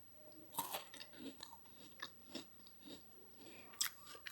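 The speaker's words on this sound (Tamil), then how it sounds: "நல்ல கிறிஸ்பியாக இருக்கும். நான் சாப்பிட்டு காமிக்கிறேன் பாருங்கள்." Someone bites into crispy Tamil kajada, a fried sweet cabbage cake, and chews it up close, giving a series of quiet, irregular crunches with short pauses between them.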